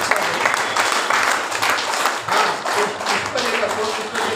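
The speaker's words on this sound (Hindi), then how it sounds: "इनका स्वागत करिए जोरदार तालियों के साथ।" Loud audience applause welcoming a speaker at a gathering in Delhi, sustained clapping with rhythmic surges while a voice talks over it.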